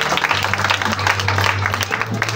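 A church audience applauds Pastor Calix with steady, warm clapping throughout, while a low hum and a voice carry on underneath.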